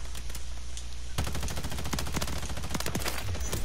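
Rapid automatic gunfire in Call of Duty, dense bursts of loud, close shots that start about a second in and continue to the end over a steady game background.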